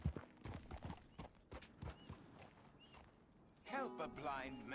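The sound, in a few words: horse hooves clip-clopping in a Rockstar video game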